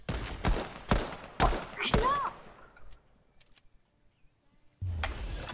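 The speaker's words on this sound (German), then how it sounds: "ich knall die jetzt ab" Rapid bursts of gunfire in a video game ring out in a quick cluster for about two seconds, then fade to near silence with faint clicks before a louder noise returns at the end.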